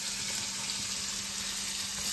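Small pearlspot fish (pallathi) seasoned with pepper fry in hot oil, giving a continuous close crackling sizzle with no voices over it.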